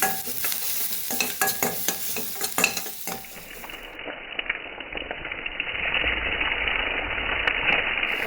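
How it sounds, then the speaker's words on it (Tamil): Onions frying in a kadai while being stirred until brown, close crackling sizzle with scraping stir strokes early on, settling into a steadier, duller hiss toward the end, no talk. "வெங்காயத்தோடு நல்லா ப்ரௌன் கலராக அவ்வளோ வரைக்கும் ஃப்ரை பண்ணிக்குவோம்"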